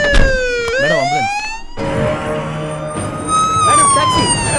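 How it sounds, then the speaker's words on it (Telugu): A wailing ambulance siren in a city street scene of a Telugu film rises and falls in sweeping tones, loud and close, with a second siren pattern cutting in partway through amid traffic noise. "Madam ambulance."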